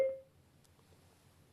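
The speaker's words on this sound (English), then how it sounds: "Press the intercom and phone buttons together and wait for the beep" A single short electronic beep from a Cardo Scala Rider Freecom 2 motorcycle intercom, sounding clearly at the start and then fading into quiet low background hum.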